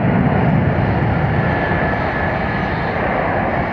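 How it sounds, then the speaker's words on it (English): A Boeing 767 jet at Atlanta Hartsfield-Jackson airport roars steadily and loudly as it accelerates down the runway, a broad continuous engine rumble with no talk over it. "That's that 767 pouring some fuel into the engines, accelerating."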